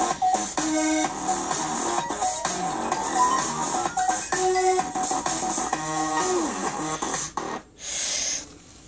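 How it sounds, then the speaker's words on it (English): Cartoon-style ascending sound effect from the iMovie app for iPad, a rising pitched sweep heard amid busy musical and effect sounds, fairly loud throughout with a brief dip near the end. "Yeah, okay, let's do cartoon ascending."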